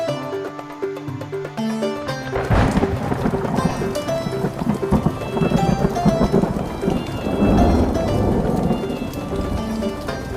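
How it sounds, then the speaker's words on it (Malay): Heavy rain pours down with deep rumbling thunder, loud and continuous, after a brief stretch of tonal sound at the start. "Alhamdulillah hujan dia."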